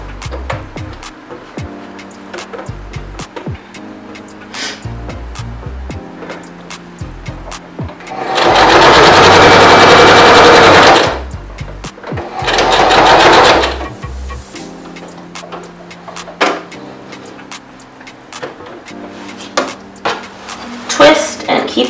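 Sewing machine stitching fabric for an apron, running in two loud steady bursts of whirring with a short pause between, surrounded by quieter clicks and handling sounds.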